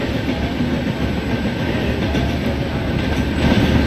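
New Delhi to Bhubaneswar Duronto Express in Indian Train Simulator, a steady rumble of a running train with faint rhythmic wheel clatter, continuous and moderately loud, with no talk.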